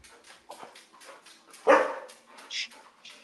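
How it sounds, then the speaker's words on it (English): A dog barks a few times in the background of a home kitchen during pizza making, sharp yips rising over quieter ambient sounds, with one louder bark near the middle. "I don't know if he caught the bark in the background"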